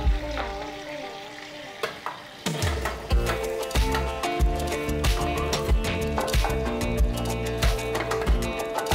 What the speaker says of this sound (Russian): На нем луковицу поджарю